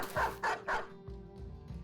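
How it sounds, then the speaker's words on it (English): Dogs in the video game Battle Brothers bark three times in a quick, loud series, then give fainter yips and growls that continue under a steady background tone. "And now I have a whole horde of dogs."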